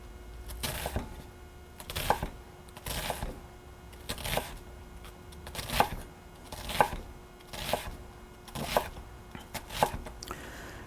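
A knife chops an onion on a cutting board in slow, spaced strokes, each a crisp close thunk roughly once a second, about ten in all, with no talking.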